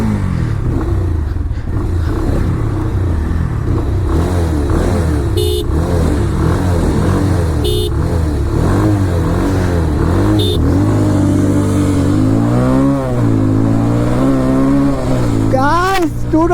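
A Bajaj Pulsar 220F BS6 and an NS200 BS6 rev and accelerate hard through the gears in a drag race, loud rising engine whines with shifts, and a voice talks over them throughout.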